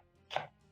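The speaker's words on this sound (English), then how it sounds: "place on my chopping board and roughly chop because we are going to be boiling the kunde and mrenda" A knife roughly chops kunde and mrenda greens on a chopping board, a single close crisp chop standing out against quiet kitchen background.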